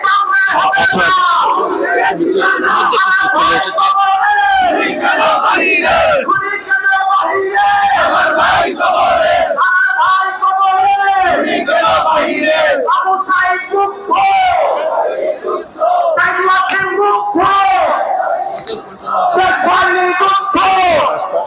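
A large protest rally crowd in Bangladesh, massed before Yunus's residence over the Awami League ban, chants and yells slogans loudly and continuously in rhythmic bursts, many voices close and dense throughout.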